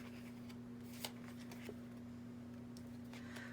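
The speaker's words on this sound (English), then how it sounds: "I'm going to lay out the rest of the cards." Tarot cards are laid out on a table, producing faint, soft slides and light taps, a few distinct card snaps over a steady low electrical hum.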